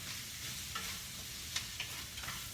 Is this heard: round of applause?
no